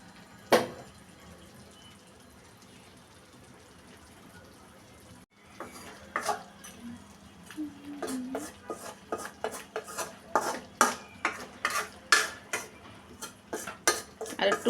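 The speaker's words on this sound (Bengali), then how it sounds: "এবার দিয়ে দিচ্ছি আগে থেকে বেজে রাখা কই মাছ" Pre-fried koi fish goes into spiced oil in a cooking pan. A quiet stretch gives way to a rapid series of close, sharp metallic clinks and scrapes of a utensil against the pan.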